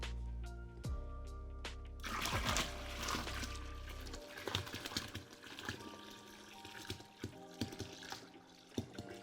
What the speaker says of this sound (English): So I'm just gonna pour it in.